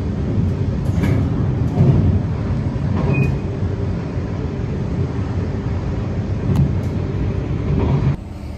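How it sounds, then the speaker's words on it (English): Steady low rumble and rattle of a moving passenger train in the Netherlands heard from inside a carriage, with occasional clicks and thumps over a continuous drone. "We're on the train despite all odds."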